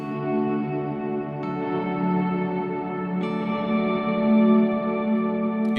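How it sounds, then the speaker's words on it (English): Guitar playing triads drenched in excessive reverb for an ambient worship sound, sustained chords ringing and washing together with long smeared tails, a new strum entering roughly every two seconds, steady and fairly loud, no voices. "If I go back to that excessive reverb sound of ours,"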